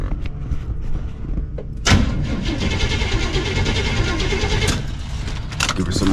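A patina Chevy box convertible engine cranks and catches, then revs up and holds a loud rough roar with rising throttle pushes, close by.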